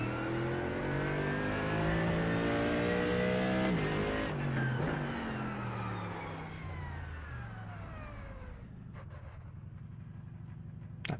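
A race car engine in a racing game revs loud and close, sweeping up through rising whines with gear shifts, then easing off and fading toward the end.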